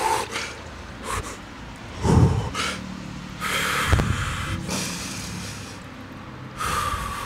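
A mountain biker breathes heavily while sitting in an ice bath of cold water, with sharp snorting gasps and ragged exhales in irregular bursts, close up.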